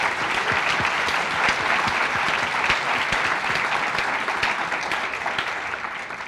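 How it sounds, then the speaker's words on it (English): A room full of new physical sciences students at a UCLA welcome event applauds their panelists and themselves, dense steady clapping throughout with no speech, loud and close. "let's have another round of applause for our panelists and for yourselves"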